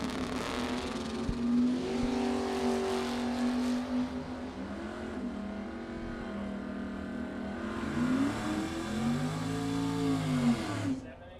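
A 1971 Chevelle and a 1982 Mustang notchback launching side by side at a drag strip, engines roaring and rising in pitch through the run, with an announcer's voice over the noise.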